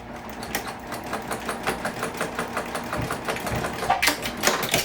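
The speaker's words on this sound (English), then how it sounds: "I'm gonna just baste these together really quick" Sewing machine basting fabric pieces together for a sling bag, a close, rhythmic run of quick mechanical stitching pulses with a steady motor whir, briefly busier near the end.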